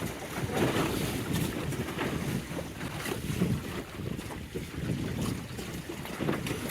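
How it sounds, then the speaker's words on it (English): Wind and gentle swells around a small John Welsford Navigator sailboat just outside a pier: steady, gusty wind roar buffets the microphone over a low, continuous rumble of moving water, with no voices. "A little messy out here just outside the pier, wind blowing in."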